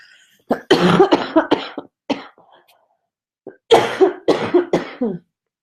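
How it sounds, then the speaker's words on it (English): Two clusters of close, sharp coughs, each a rapid run of hacking bursts, separated by a quiet pause. "Hang on, I've got a cough again."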